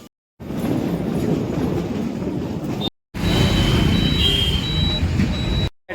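A Delhi metro train running, a loud steady rumble of the carriage on rails with clickety-clack texture, broken by brief cuts and with a few high electronic tones near the end, and no talking.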